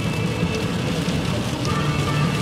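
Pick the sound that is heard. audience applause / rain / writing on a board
rain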